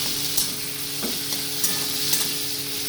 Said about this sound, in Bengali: এবার এটাকে আমি ভালো করে ভেজে নেব আলুর সঙ্গে একটু নুন দিয়ে দেবো